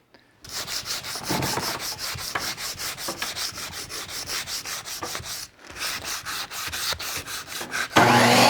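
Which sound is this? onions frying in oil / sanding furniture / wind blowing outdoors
sanding furniture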